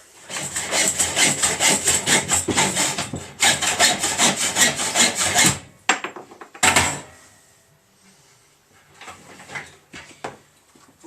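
A motorcycle exhaust pipe for a Suzuki Bandit 1200 is hand-sawn at an angle, with loud rapid rhythmic back-and-forth strokes for several seconds, then a few separate knocks and quieter scraping.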